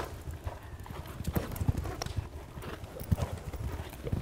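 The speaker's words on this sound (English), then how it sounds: "They're only doing a good strong canter." Racehorses at a strong canter in training, hooves clip-clopping in a quick uneven rhythm across the ground, moderately close, with a brief whinny and faint background voices.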